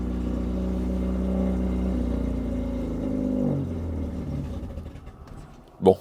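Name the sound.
car engine running and revving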